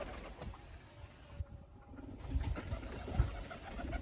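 Pigeons, forty female birds among them, are let out to fly in the rain, with soft cooing and scattered low wing flutters over steady rain and outdoor background noise.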